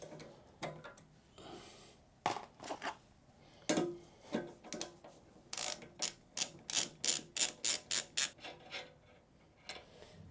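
A ratchet wrench works on the side stand of a Kawasaki Versys 1000SE motorcycle, giving irregular bursts of sharp clicking that settle into a quick, steady run of close ratcheting strokes near the end.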